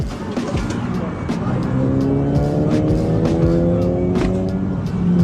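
A car engine runs on a highway, with a steady hum that rises slightly in pitch as if revving or accelerating, close and continuous, with some road noise.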